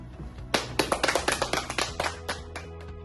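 Students applauding their teacher on Teacher's Day, a short series of distinct, fairly sharp claps or taps in loose rhythm after a brief quiet moment, fading out near the end.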